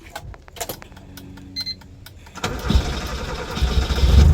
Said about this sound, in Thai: ติดเครื่องให้ดูนะครับ